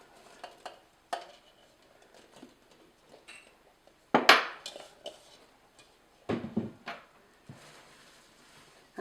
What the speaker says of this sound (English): you can add the marshmallows, and you want to just keep stirring to keep everything moving around